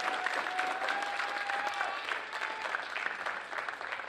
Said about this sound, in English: can we give a round of applause to our DJ today, Drew Hobson, DJ Doughboy?